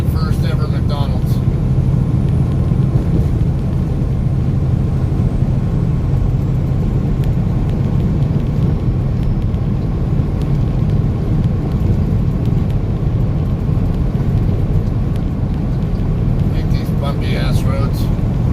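Car rolling over rough, bumpy road surfaces on a drive in the Amarillo, Texas area, with a steady loud low rumble of road and tyre noise throughout and some faint talk briefly at the edges.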